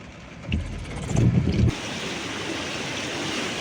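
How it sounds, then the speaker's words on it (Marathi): Floodwater from the swollen Kajali river pours across a road in a steady, broad outdoor rush. A louder surge of water and engine noise passes by early on. "आणि सगळीकडेच रस्त्यावरून पाणी जात आहे"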